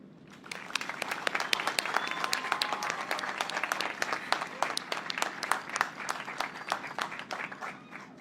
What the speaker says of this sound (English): let's get a little round of applause for the class of 2021 and all the people who helped us get here.